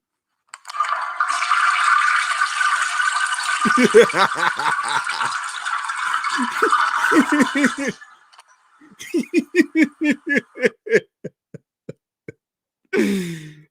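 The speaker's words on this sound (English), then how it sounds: "I want to flush it again." A toilet is flushed a second time, a sustained close rush of water, followed by rhythmic laughter-like vocal bursts and a short voice at the end.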